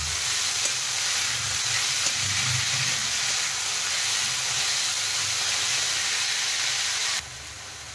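Boiled banana flower fries with spices in a pan, a steady close sizzle and hiss with soft stirring, cutting off sharply near the end.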